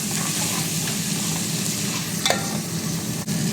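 Ginger and curry leaves frying in a hot pan give a steady, close sizzle with light stirring scrapes, with one brief sharper crackle near the end and no talking.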